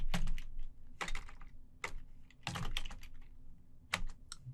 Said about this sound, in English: Type in PowerShell.